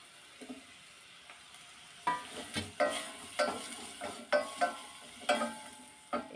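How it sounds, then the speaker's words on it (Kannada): Chopped capsicum frying in a pan of hot oil tempering for a mushroom gravy, a soft steady sizzle broken by regular scraping stirs of a spoon, fairly close, with no talking. "ಎರಡನ್ನೂ ಒಗ್ಗರಣೆಲಿ ಫ್ರೈ ಮಾಡ್ಕೊಳ್ಳೋಣ."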